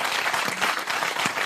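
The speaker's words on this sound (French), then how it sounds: "applaudissements pour le patriarche de la télévision française" Studio audience applauding on a French midday television show, a dense steady patter of clapping hands filling the short stretch with no voices on top.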